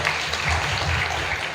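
A graduation audience claps briefly as a steady, moderate wash of hands, with no voice over it.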